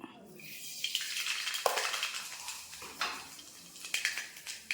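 Half a teaspoon of mustard seeds hits hot coconut oil in a pan, giving steady close crackling and sizzling with sharp popping ticks scattered throughout.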